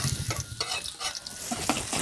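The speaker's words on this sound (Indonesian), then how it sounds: "Lanjut kita tumis bumbu-bumbu yang sudah diiris" Sliced Indonesian spice paste ingredients being stir-fried in a pan: crackling sizzle broken by repeated scraping strokes of a spatula in an uneven rhythm, close up and without voices.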